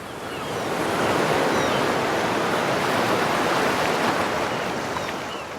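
A person exhales slowly through an open mouth to imitate ocean waves in a yoga breath, a soft rushing breath that swells, holds steady and fades.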